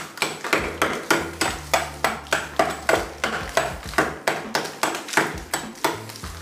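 Sharp, evenly spaced hammer blows chipping at a bathroom wall, about fifteen ringing impacts in a steady rhythm, close and loud.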